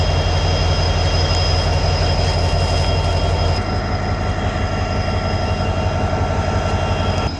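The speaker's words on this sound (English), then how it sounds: "The train's still there." Canadian Pacific or Union Pacific freight train rumbling steadily past at close range, a loud continuous roar of wagons and engines with wheel noise throughout and no talk.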